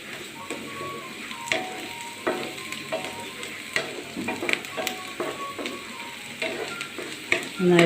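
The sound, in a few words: stirring whole chillies frying in a pan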